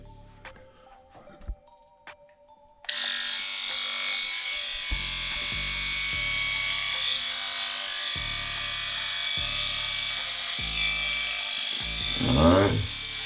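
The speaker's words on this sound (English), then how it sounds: "I'm gonna go to work with the Pitbull skull shaver" After a brief click, a Skull Shaver Pitbull electric head shaver buzzes loudly and continuously, its hum shifting slightly as it moves through hair, with occasional talking underneath.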